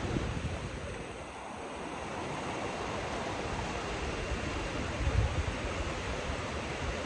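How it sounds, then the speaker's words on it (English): Steady broadband rush of a river running high, the water pouring down past a tail race on a cold morning; continuous and fairly close, with no voices. "River's running good."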